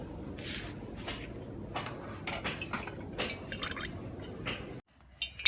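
Coconut oil is poured into a mix for homemade neem oil, giving soft wet drips and squishy liquid splashes close by, continuing steadily before cutting off near the end with a few faint clicks.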